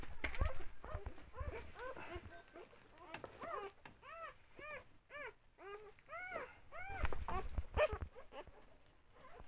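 Dogs and puppies let out a series of high, rising-and-falling whimpers and whines, repeated in quick bursts and fairly faint against low background noise.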